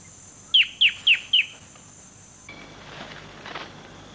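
A bird of paradise gives four sharp, loud rising calls in quick succession, then fainter scattered chirps and rustling follow against a quiet natural background.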